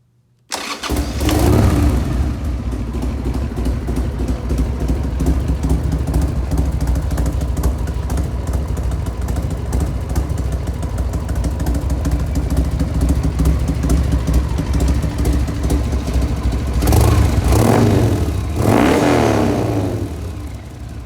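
A quiet street motorcycle starting up after a brief pause, then settling into a steady, smooth low idle that runs evenly and close by, with a short blip of revs near the end and no talk.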